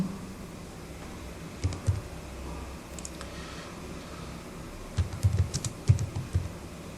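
Someone types on a computer keyboard to search Google, sparse key taps in short bursts with pauses between them, close and quiet.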